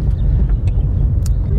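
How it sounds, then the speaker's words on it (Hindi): A car driving at high speed on a road during a driving lesson, giving a steady low engine and road rumble throughout, with faint brief higher noises over it. "अब देखिए गाड़ी काफ़ी तेज स्पीड में मूव"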